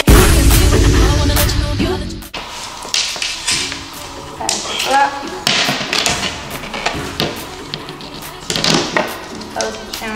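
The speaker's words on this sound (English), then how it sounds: "You need to use your hammer to press the nails in a little deeper." Sharp hammer taps drive nails into wall trim moulding in an irregular series, close and crisp, with a few heavier knocks and brief pauses between hits.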